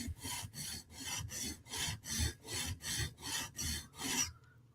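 A Hinderer knife blade being sharpened on a TSProf Kadet guided sharpener, about ten evenly spaced rasping strokes of stone on steel in a steady rhythm, close and fairly quiet, ending in silence.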